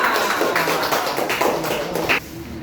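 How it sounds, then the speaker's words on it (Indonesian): Students in a classroom clap for a group that has just finished presenting, a handful of close hand claps in a short uneven burst that stops abruptly before the end. "Tepuk tangan."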